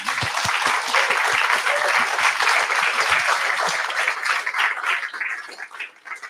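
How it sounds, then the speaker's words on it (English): Audience at a tech meetup applauding steadily for several seconds, dense clapping with a few sharper near claps, tapering off at the end. "please give him a huge round of applause."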